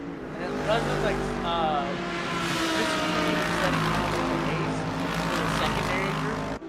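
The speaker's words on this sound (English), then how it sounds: "These cars are so loud" GT3 race cars lapping Laguna Seca in a racing video game give a loud, continuous engine drone whose pitch rises and falls with gear changes, running beneath steady commentary talk.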